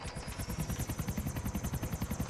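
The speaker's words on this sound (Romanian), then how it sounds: "Tu nu știi să conduci elicopterul" A helicopter flies in the video game GTA 4, its rotor beating in a fast, steady rhythm with a whining turbine tone, close and continuous throughout.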